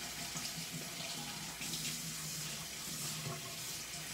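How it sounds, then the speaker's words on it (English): Water runs steadily from a kitchen tap as hands are rinsed while making guacamole, a continuous near splashing hiss with no talk. "let me just rinse my hands"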